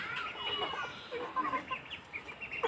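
Chickens cluck softly in a rural poultry-keeping yard, a scatter of short, faint calls and bird chatter over light background noise, with no voices.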